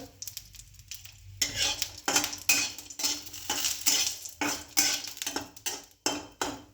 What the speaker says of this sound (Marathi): आता हे खोबरं भाजून घेऊया मस्त